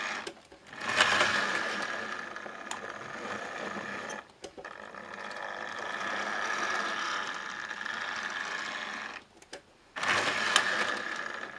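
A model railway locomotive motor whirs steadily in a loft layout, a close mechanical buzz that cuts out abruptly twice as the mechanism locks up, then restarts.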